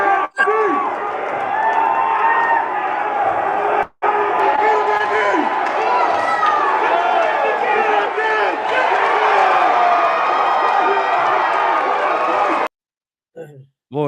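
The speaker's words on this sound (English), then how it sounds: "that crowd was loud for you" A loud, dense arena crowd at a boxing fight roars and cheers continuously for about twelve seconds, with shouting voices layered in the din, cut by a brief gap near four seconds and ending in near silence.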